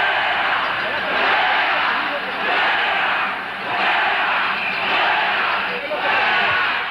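A large protest rally crowd in Venezuela chants in loud, rhythmic swells that rise and fall every second or so. Many voices blend into one dense roar, with no single speaker standing out.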